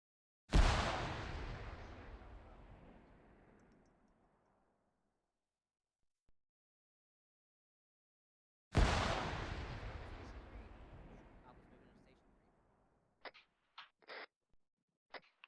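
Two heavy frag grenade blasts go off in a military squad training game, each a sharp boom trailing into a long rumbling decay, with a few faint clicks and thuds after the second.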